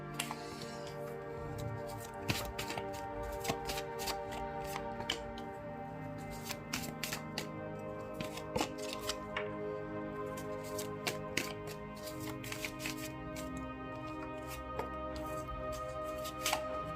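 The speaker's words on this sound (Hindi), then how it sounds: "यहाँ पे मुझे मैं थोड़ा और कार्ड निकालूंगी आप लोगों के लिए" Tarot cards are shuffled and drawn by hand, giving a steady stream of close crisp flicks, riffles and taps over a faint sustained musical drone, with no talk.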